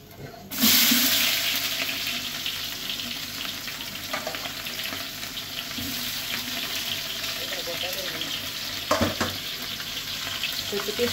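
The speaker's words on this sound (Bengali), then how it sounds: "একটু হালকা ভাজা ভাজা হোক" Food frying in a pan as potatoes are cooked in a home kitchen, an abrupt loud sizzle that settles into a steady hiss with occasional stirring scrapes and faint background voices.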